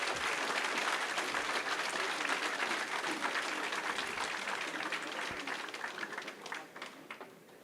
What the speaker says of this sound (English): please give a big round of applause to Mr. K.